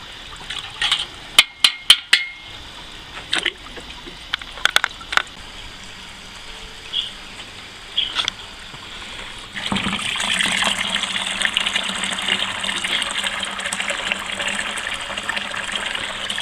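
Home-brewed beer wort pours into a fermenter in a steady gush that starts after scattered clinks and handling sounds and then continues evenly; no talk.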